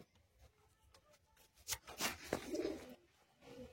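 Pigeons handled in a pigeon loft, with soft cooing and brief wing flutters and shuffling close by, clustered mostly in the second half amid quiet background rustle.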